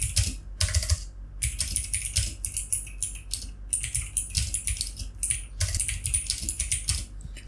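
Fingers tapping out text on a computer keyboard in quick, uneven bursts of close, crisp key clicks with brief pauses between words, no voice present.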